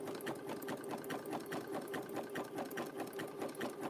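A sewing machine stitches a rope coaster in a fast, even run of rhythmic mechanical clatter, close and continuous, with no voices.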